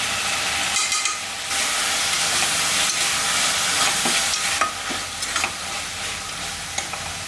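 Tomatoes with garam masala and red chilli powder sizzle and sauté in a pan for a vegetable biryani, with a steady loud frying hiss and intermittent scraping and stirring clicks of a spoon, close by and without speech.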